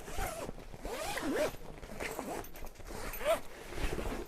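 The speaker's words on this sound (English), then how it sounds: "They can be replaced by simply taking the zip all the way around" A zip slider is pulled along a zip on a fabric panel, giving a continuous raspy zipping sound that runs steadily through the whole stretch at close range with no talk.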